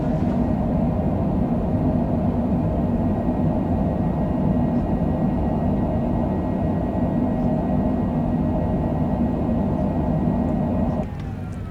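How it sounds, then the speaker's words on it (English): An aircraft lands at Rock Springs, Wyoming, with spoilers and thrust reversers deployed. A loud, steady roar of rumble and rushing air holds throughout, then drops in level at the very end. "Spoilers and reversers."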